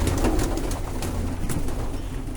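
Pigeons coo steadily in a low, throaty murmur, fairly close, with a constant rumble of outdoor background noise.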